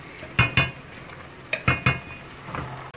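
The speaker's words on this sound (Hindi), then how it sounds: "अच्छे से इसको भूनूंगी" Chicken qorma frying in a pot, degi style, with sharp metal spoon clanks in two pairs and a third softer knock over a faint background sizzle.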